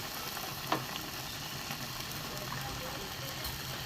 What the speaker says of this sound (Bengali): এবার আমি এই বেসনে ডুবিয়ে ভাজবো।